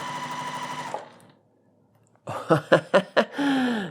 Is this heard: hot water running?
no